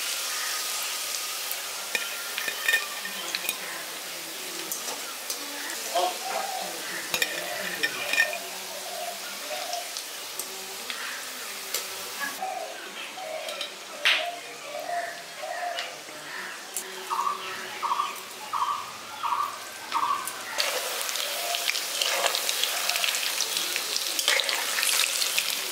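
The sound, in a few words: deep frying vegetable pakoras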